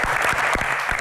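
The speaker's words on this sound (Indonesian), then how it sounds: "langsung saja kita akan berikan tepuk tangan yang paling meriah untuk Ibu Lestari Murdiat" A brief burst of dense, loud applause from an audience welcoming guest Ibu Lestari Murdiat onstage at an evening talk show, steady clapping filling the whole moment.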